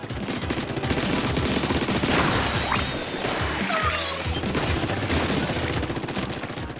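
Bombs burst in the Splatoon 3 video game, a dense, loud barrage of crashing, popping blasts with sweeping electronic effects layered over game music, continuous through the stretch.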